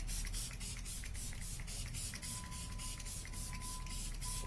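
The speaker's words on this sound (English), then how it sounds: "And I'm gonna spray it." Repeated rapid bursts of fine cooling face mist spraying close by, a pulsing hiss of many quick pumps in steady rhythm.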